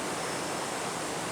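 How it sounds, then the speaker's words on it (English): Water spraying steadily, a dense even hiss of rushing spray that stays constant throughout with no other sounds. "See that water spraying over there?"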